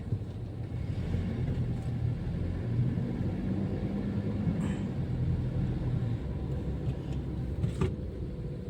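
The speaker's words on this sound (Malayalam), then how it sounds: "ഏട് നോക്കിയാലും ട്രാഫിക് ജാമാണ്" Steady low rumble of a road traffic jam in Abu Dhabi with idling and creeping vehicles, a continuous dense drone with occasional faint clicks.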